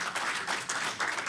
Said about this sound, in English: I would just love for a round of applause for a really fantastic